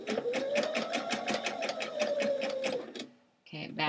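A home sewing machine stitches a hem on thrifted jeans in a fast, even run of needle thumps with a rising motor whine. It stops abruptly, then starts again briefly, with no talk over it.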